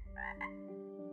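A single frog gives a short, throaty croak lasting about a second, heard alone at low volume with a steady tonal hum continuing beneath it.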